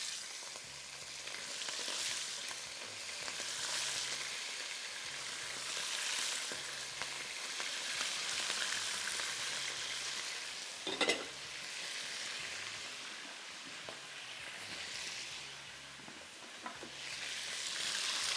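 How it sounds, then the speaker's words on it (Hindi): Barbecue-marinated chicken frying on high heat in a karahi, a steady dense sizzle running throughout with occasional stirring and one sharp clatter partway, no voices. "तेज़ आंच पे फ्राई करेंगे शुरू में"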